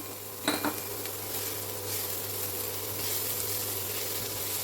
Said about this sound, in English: Now what we're doing is we're just going to do a very quick fry off.